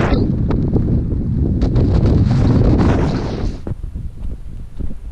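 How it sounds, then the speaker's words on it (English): Strong wind sweeping across open moorland on the North York Moors in December, a loud, close roar buffeting the microphone that eases toward the end. "Looking very bleak on the moors. Thankfully this wind calms down later."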